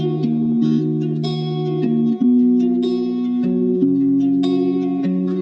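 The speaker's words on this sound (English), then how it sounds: "So the first thing I started with on this song was this guitar loop." A looped guitar sample for a bedroom pop song, processed with effects and reverb, plays a steady repeating chord pattern that changes every second or so, up close and with no talking.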